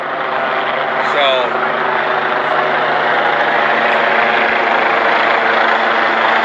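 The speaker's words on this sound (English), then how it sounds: "Helicopters flying around doing thermal." Helicopters circling at night over a border river area during a search, a steady, loud rotor and engine drone filling the whole clip without letup.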